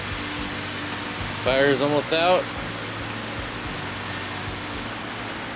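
Steady rain falls on a campsite awning, a soft continuous patter and hiss; midway a person speaks briefly over it, then the rain carries on alone.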